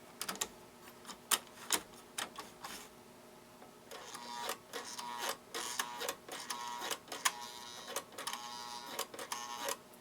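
Reverse mechanism of a greasy American Flyer 370 diesel locomotive clicking in uneven bursts of sharp, close mechanical ticks and rattles, with no motor hum beneath.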